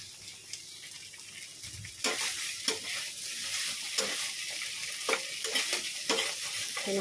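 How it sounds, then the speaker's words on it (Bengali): Poppy seeds frying in a pan with a black cumin tempering, a steady sizzle broken by scraping stirs, with sharper bursts as the spoon moves through the hot seeds. "কালো জিরে ফোড়ন দিয়ে পোস্ত করছি"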